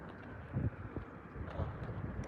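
Low, steady rumbling buffets the microphone throughout, the muffled roar of wind gusting across it outdoors at a car lot in Germany, with occasional louder thumps.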